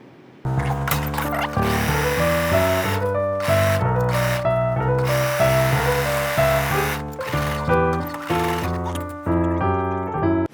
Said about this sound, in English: So I'm serging everything.